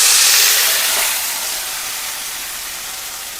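Wet carrots hit a hot skillet and sizzle with a loud, steady hiss that starts strong and slowly settles to a softer, continuous fry.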